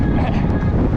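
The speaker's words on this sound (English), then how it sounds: "with wind gusts over 50 miles an hour, making a wind chill of" Strong wind of over 50 miles an hour roars across a cold beach, buffeting the microphone in a steady, loud, full-band rush with no let-up.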